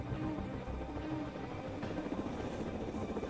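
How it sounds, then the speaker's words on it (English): Marine One presidential helicopters landing on a small concrete pier give a steady, fairly faint rotor drone and engine whine that continues throughout. "For this presidential mission, not one, but 4 helicopters must squeeze onto the pad."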